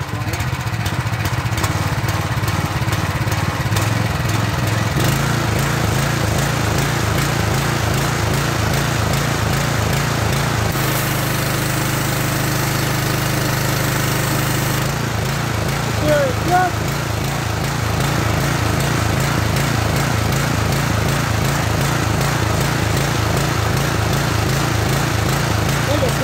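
A Simpson 4000 psi pressure washer's small engine runs steadily at low throttle, a close, even chugging drone that shifts tone briefly partway through, with no voices.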